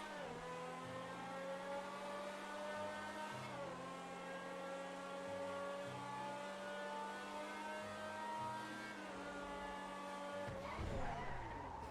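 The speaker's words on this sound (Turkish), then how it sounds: "Çok güzel fren sıkma sistemi var arkadaşlar. Araba güzel kayıyor görüyorsunuz." A Pegassi Tyrus sports car in GTA 5 Online brakes hard and skids, its high steady engine whine dipping and shifting in pitch under continuous tire noise, loud and close without pause, ending in a rougher scrubbing burst.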